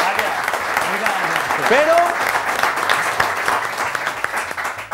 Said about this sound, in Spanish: Eres el vencedor de esta tarde porque el público y el jurado ha hablado y se merece un aplauso